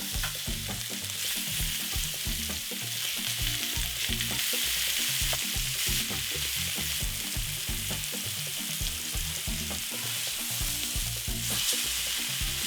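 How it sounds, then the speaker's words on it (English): Pork tenderloins sear in a heavy cast iron pan, giving a loud, dense, unbroken sizzle throughout with no voices. "Now heat a heavy cast iron and start searing the pork tenderloins."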